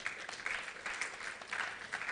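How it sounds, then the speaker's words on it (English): Audience applause for a port transit officer at a Tema Port event, faint, steady clapping from a distance that runs evenly throughout. "Please give her a round of applause."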